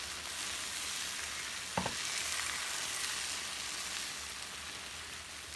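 Steady soft sizzling hiss of hot syrup hitting pastry, continuous and even throughout, with one brief faint clink partway through.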